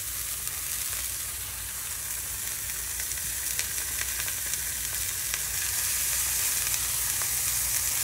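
Pork burger patties sizzle and fry in a pan, a steady, dense crackling hiss that holds evenly and swells slightly toward the end, with no talking.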